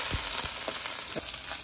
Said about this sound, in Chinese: 三文鱼皮朝下煎酥就可以